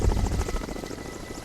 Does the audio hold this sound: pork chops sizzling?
no